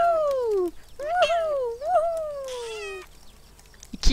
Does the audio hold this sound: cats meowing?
yes